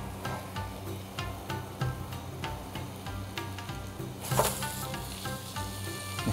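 Tamagoyaki, a sweet dashi-seasoned Japanese rolled omelette, sizzles steadily in a pan with light clicks and scrapes of the utensil, a brief louder burst of frying midway, no talking.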